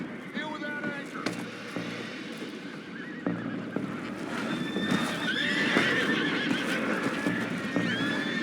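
In the Red Dead Redemption 2 video game, several horses whinny and neigh repeatedly while hooves clip-clop over a steady outdoor background, with a few voices talking underneath.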